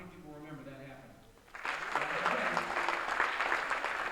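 Audience applause at a high school spring band concert, starting abruptly after quiet talk and swelling into a sustained, dense round of clapping from a large crowd.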